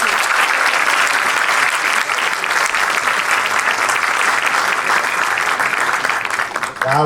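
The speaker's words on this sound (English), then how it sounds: "Ένα χειροκρότημα." Steady, dense applause from a film festival audience fills the room, loud and continuous for several seconds before tapering slightly at the end.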